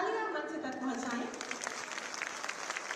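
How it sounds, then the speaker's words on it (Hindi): At a Youth Skills Day ceremony, an audience claps to welcome Chief Minister Adityanath. A voice opens briefly, then dense crowd applause follows, spread across the hall and fairly soft. "आप सभी प्रणाम स्वरूपी तालियां मंच तक पहुंचाएं"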